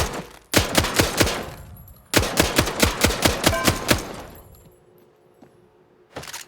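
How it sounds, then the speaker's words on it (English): Burst-fire rifle in the battle royale game Blood Hunt, loud and close, with rapid evenly spaced shots in two long strings and a short third burst at the end. "Burst rifle."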